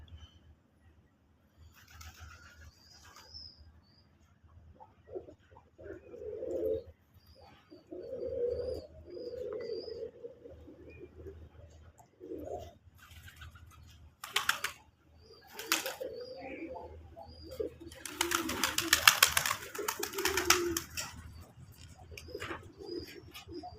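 Domestic pigeons on a farm coo in low, rounded bursts, with bird chirps and clattering movement scattered among them and a louder flurry of noise near the end.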